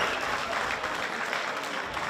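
Crowd at a fighting competition event applauding as fighter Pridon Kutsiani leaves, a dense steady wash of clapping throughout with no voice heard.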